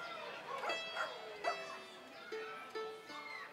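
Dogs barking and yipping at the Oregon Zoo during an outdoor summer concert, a few sharp moderately distant barks and short whining cries spaced irregularly, with no talk.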